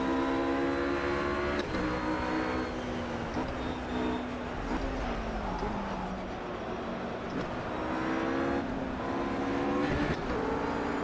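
A RUF GT3 race car lapping the Nürburgring in the racing game Project Cars, its engine note rising and falling through gear changes with sliding and braking, a steady loud drone with no talk.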